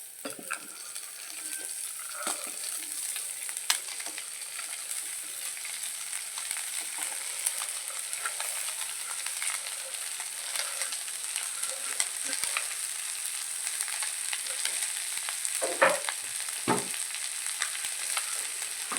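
Chopped spring onion stalks fry in a pan with a steady, bright hiss of oil, broken by occasional scrapes and taps of a stirring spoon, close and continuous throughout.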